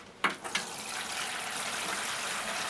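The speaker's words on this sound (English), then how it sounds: "I'm going to put some water in the tray." Water poured into a seed tray holding a soil, vermiculite and seed mixture, a few splashy onsets at the start settling into a steady, close trickling wash that runs to the end.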